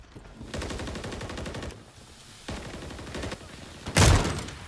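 Rapid automatic gunfire rattles in two sustained bursts in Call of Duty MWIII, followed by a single heavy, close sniper-rifle shot that booms loudly near the end.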